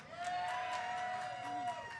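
Crowd cheering and applause at a Trackside Live racing fan event with driver Aric Almirola, a steady, fairly faint wash of audience noise lasting the whole stretch, with a sustained high tone and some voices mixed in.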